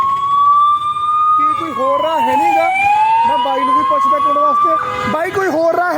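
Ambulance siren wailing loud and close in a jammed city road in Ludhiana, a steady rising and falling tone with a second siren joining and traffic noise beneath.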